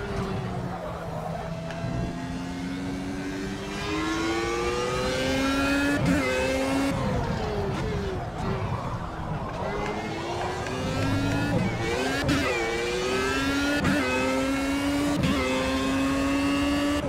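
Race car engine in the Project CARS racing game, revving up and down with repeated gear shifts and rising pitch sweeps, loud and steady throughout, with a voice talking faintly at moments.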